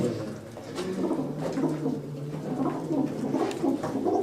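Pigeons coo steadily in a loft, including a large red pigeon perched at the back, with soft repeated throaty calls layered over one another at close range and no talk.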